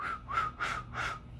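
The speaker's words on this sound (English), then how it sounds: "I would whistle, but I don't know how to whistle" A person whistles a short run of four quick, breathy notes, close and fairly quiet, each note sliding slightly in pitch, with no talking.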